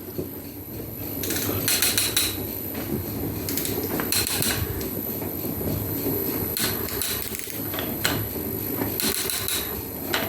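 A metal planer cuts steel at a slow speed, giving a continuous low mechanical rumble with recurring scraping and clunking strokes at intervals, moderately loud and close.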